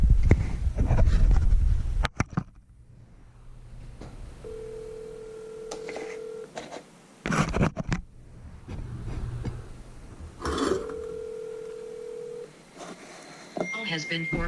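A phone dials out to call someone, with steady ringback tones repeating between pauses, preceded by someone talking and followed by brief clattering handling noise, close and clear.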